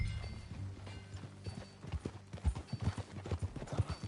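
Horse hooves clip-clop at a steady walking pace in Red Dead Redemption, growing louder and closer over a low ambient background.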